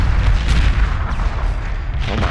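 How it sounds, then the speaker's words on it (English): Space battle in Homeworld: Remastered, a dense loud barrage of booming explosions and weapon fire rumbling continuously and close, with no talk. "Oh my gosh, the explosions are amazing."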